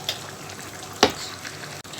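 Onions frying in a pan for chicken payaz give a continuous soft sizzle, close by, with one sharp clatter partway through as the pan is stirred.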